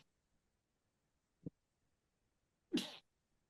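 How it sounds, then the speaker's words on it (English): A single sneeze bursts out near the end, a short broadband blast after a faint, brief catch of breath a second or so earlier, against an otherwise quiet room during a webinar. "I'm going to sneeze"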